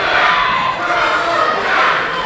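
A wrestling crowd in North Romford roars and cheers loudly and continuously, a dense wash of many shouting voices that swells slightly toward the end, with no clear commentary over it.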